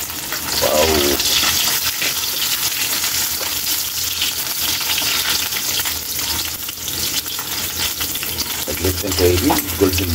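Garlic sautéing in hot cooking oil for a Filipino fresh pancit dish, a steady loud sizzle and crackle throughout with stirring, with a brief voice near the start and end.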